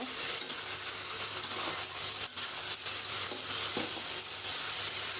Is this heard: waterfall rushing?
no